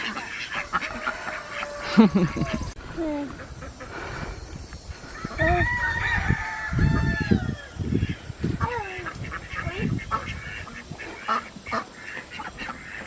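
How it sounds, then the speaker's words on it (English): Ducks near a nest box, some taking a morning bath, give quacks and calls at close range, mixed with splashing and shuffling while people talk over them. "I see some ducks in the nest box, Rowan."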